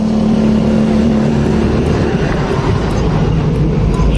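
A 2019 Honda Beat scooter with a fault where the hand (electric) starter fails despite a good battery and charging: loud, continuous mechanical whirring and engine noise close up, steady throughout.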